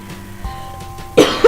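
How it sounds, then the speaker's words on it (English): A person with a bad cough gives two sharp coughs in quick succession, close and loud against a quiet background. "Sorry, I got a nasty cough this week."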